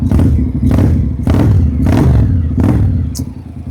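A motorcycle engine is blipped through its not especially loud exhaust, with five sharp revs in a steady rhythm, each rising and falling back to a rumbling idle. The sound is loud and close, with a small metallic clatter near the end.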